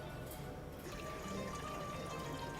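Water pours steadily into a pot for boiling pasta in a kitchen, a soft continuous splashing and trickle, fairly faint and close, with no talk over it.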